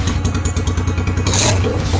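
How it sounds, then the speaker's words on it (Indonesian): A motorcycle with a short stainless steel exhaust revving, raspy and crackling, pulsing rapidly and then rising into a brief louder burst. "Kalau stainless sekelas knalpot pendek begini udah dipastiin suaranya akan ngeblar pecah"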